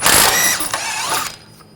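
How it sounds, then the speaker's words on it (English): A ratchet fitted with an 18mm socket backs out a rear suspension control arm bolt on a 2007-2013 BMW 328i, giving a loud, close, brief mechanical whir and clicking that tapers off after about a second. "We're going to take this bolt out. Using a 18mm socket,"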